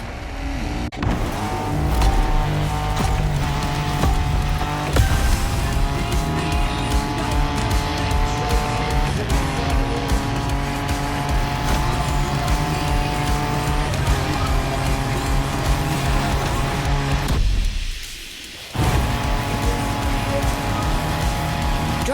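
A car engine roars steadily while driving off-road in the racing game The Crew Motor Fest, loud and continuous with shifting revs, cutting out briefly near the end.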